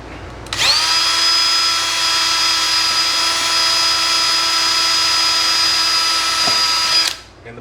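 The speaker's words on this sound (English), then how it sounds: "So what I'm using is 5/64 drill bit." A power drill fitted with a 5/64 drill bit bores through window felt and its backer on a 1975 Chrysler Imperial, one steady high whine that starts abruptly, holds for about six seconds, then spins down.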